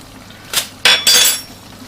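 Courgettes being mixed with cheese and garlic powder in a dish, heard as three or four sharp clinks and scrapes of a utensil against the dish, close and isolated against quiet.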